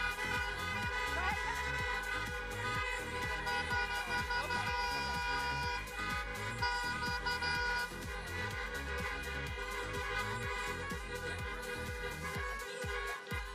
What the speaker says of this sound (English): let me hear some big honks for Sydney Little.